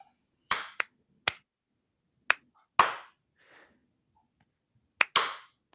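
Slow clap of several loud, close hand claps spaced out irregularly, with gaps of up to a second and a half between them, in a morning radio show studio.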